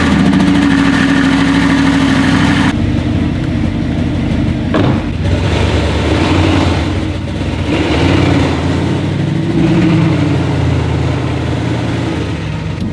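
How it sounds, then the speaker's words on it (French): Audi R8 with its V8 engine warming up, idling with a loud, steady, close rumble that dips and swells slightly throughout. "Attendant que la BM elle s'enlève, je vais faire chauffer le moteur."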